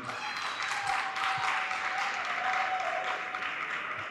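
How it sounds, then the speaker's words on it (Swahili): Graduates at a political party gathering applaud themselves in a steady crowd clap, with a faint tone and some murmuring underneath. "Jipigieni makofi wahitimu."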